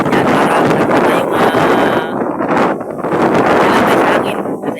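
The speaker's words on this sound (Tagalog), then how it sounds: "So ang lakas talaga ng hangin dito mga kalabas." Strong gusting wind on a hilltop with coconut palms and bamboo, loud roaring buffets battering the microphone continuously and almost masking everything else.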